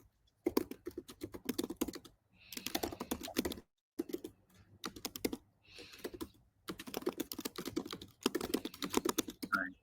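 Typing on a computer keyboard, close and clear: bursts of rapid clicking keystrokes separated by short pauses, with no talking.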